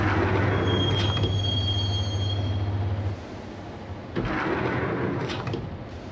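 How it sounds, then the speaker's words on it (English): A steady video game train rumble in Max Payne with a high metallic wheel squeal early on, then a brief lull before the rolling rail noise swells back up. "the train doors had already shut behind me, and I was in for the ride"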